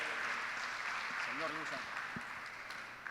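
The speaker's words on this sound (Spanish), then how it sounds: "Démosle un fuerte aplauso de bienvenida al pastor Ángel." A church congregation applauds to welcome Pastor Ángel, a faint, distant patter of clapping with a voice cutting through briefly in the middle.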